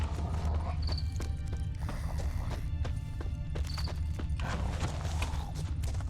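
Horse hooves clip-clop steadily in the video game Witcher 3, a close, continuous beat over a dense background rumble, with a horse neighing faintly at times.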